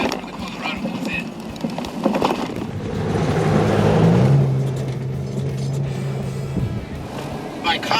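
A 2017 Chevrolet Colorado ZR2 driving over off-road ruts at about 35 to 45 mph, heard from inside as a loud steady rumble of road and engine noise with bumps, and someone talking over it.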